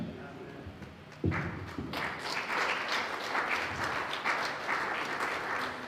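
A church congregation at an Ivorian revival service bursts into applause after a thud, a dense clapping crowd continuing steadily with scattered voices beneath.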